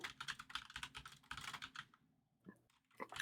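Fast bursts of clicky computer keyboard typing, close and fairly loud, pausing briefly near the end before a few more keystrokes.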